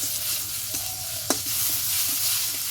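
Steady sizzling of ground leaf paste frying in hot oil, with a spatula scraping and stirring the pan a few times, close up.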